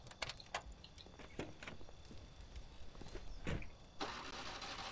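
A 1930s-style car in the video game Mafia has a door handled and its engine cranked and started, with faint clicks and clunks followed by the engine catching and idling near at hand.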